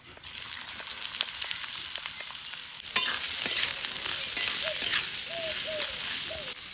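Carrots, onion, beans and green chillies frying in oil in a wok, starting as a quiet sizzle, then a sharp clatter as they hit the pan followed by louder continuous hissing with faint stirring scrapes.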